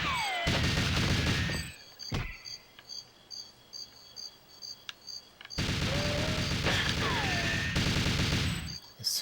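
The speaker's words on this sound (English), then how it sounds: "Who's even shooting at me?" Goldeneye 007 gunfire: two long, loud stretches of rapid automatic shooting with ricochet-like whines, separated by quieter sporadic shots and ambient game noise.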